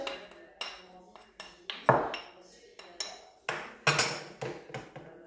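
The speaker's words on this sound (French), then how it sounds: "on broie la gousse d'ail et on continue" Garlic cloves and basil pounded with a pestle in a mortar for Provençal pistou: about a dozen sharp, ringing knocks at an uneven, unhurried rhythm, close and fairly quiet, each followed by a short decaying ring.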